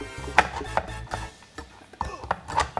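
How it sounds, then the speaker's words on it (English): A knife chops through a block of frozen coconut oil on a board in a handful of sharp, irregular thunks, some paired in quick succession, loud and close with short pauses between. "So now that our coconut oil is chopped up into small chunks"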